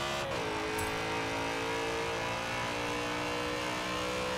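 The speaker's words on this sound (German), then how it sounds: "Jetzt sind wir aber erstmal hier mit unserem aufgepimpten M4 mit dem M3-Motor unterwegs." Tuned BMW M4 fitted with an M3 engine, driven in Forza Horizon 4: a loud, continuous engine drone that climbs sharply at the start, then holds a steady high-revving tone throughout.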